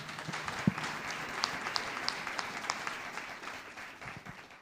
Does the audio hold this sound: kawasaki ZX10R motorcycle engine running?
no